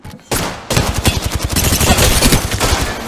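Loud, close automatic gunfire in a shooter video game, with rapid bursts hammering away after a short opening shot and a sharp start.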